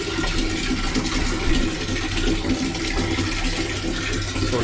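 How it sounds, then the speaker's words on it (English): Water gushes steadily from a tap, filling a tub in a Russian banya. The rushing, splashing stream is loud and close, with no talk. "So we are filling the water."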